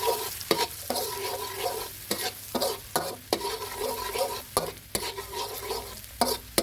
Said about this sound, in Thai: จากนั้นก็ใส่กระเทียมสับลงไปหนึ่งหัวครับผม ผัดให้เหลืองหอม